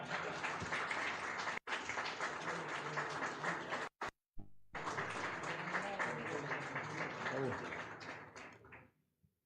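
An audience applauds at a signing ceremony for an agreement between Santa Cruz province and YPF, a dense burst of clapping that breaks off briefly and resumes before fading out.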